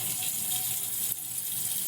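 Running tap water flows steadily into a sink during a surgical hand scrub, a continuous close splashing hiss with a brief dip in the flow partway through. No speech.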